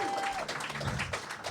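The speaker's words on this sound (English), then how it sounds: "If we can get a round of applause for the both of them" A comedy club audience claps for two roast battle contestants, a short, dense burst of applause lasting the whole moment without letting up.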